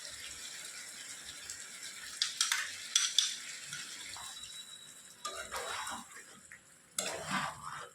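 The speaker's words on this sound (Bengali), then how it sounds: "দেখুন, দইটা মিশিয়ে নিয়েছি সুন্দরভাবে এর মধ্যে।" Whisked yogurt being stirred into chicken curry in a pan, soft scraping and wet stirring sounds in short bursts with a gentle sizzle underneath, close and quiet.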